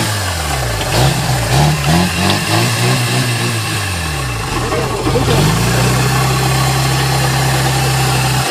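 A fire pump engine at a youth firefighting competition starts and revs, its pitch rising and falling before settling into a steady, loud idle, with people talking in the background.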